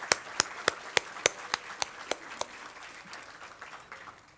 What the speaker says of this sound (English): let's give City TV another big round of applause